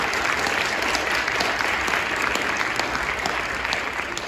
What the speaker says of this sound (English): can we just give a round of applause to our singer